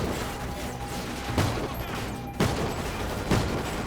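A rifle firing .308 rounds in Call of Duty: Ghosts, three sharp shots spaced about a second apart over a dense, noisy combat background, loud and close.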